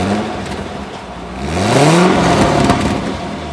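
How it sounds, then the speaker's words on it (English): A 2010 Chevrolet Corvette Grand Sport with the LT3 package revs its V8 once, the exhaust swelling to a loud, rising roar and then dropping back to a rumbling idle, heard up close. "Exhaust sounds good."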